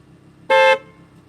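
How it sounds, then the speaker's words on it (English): A 2020 Audi R8 V10 Performance Spyder sounds its horn once, a short, loud, steady honk of about a quarter second over quiet background, with no talking. "That sounds like a standard horn, right?"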